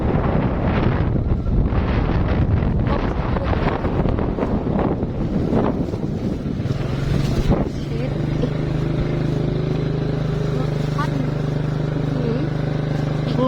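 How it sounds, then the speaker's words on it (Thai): Wind buffets the microphone on a dusty outdoor ride as a steady rough roar, easing after a few seconds into a low, steady engine-like hum. "ลม"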